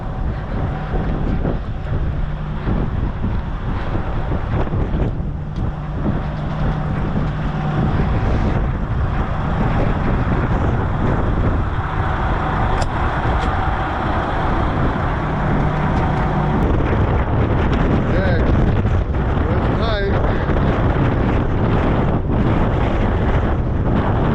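Strong gusts buffet a tarp on a semi trailer on a farm during corn harvest, a loud, continuous roar of wind with flapping and rumbling against the microphone, steady throughout with no talking.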